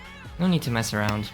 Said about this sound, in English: I think my cat's hungry right now and she's come here to meow.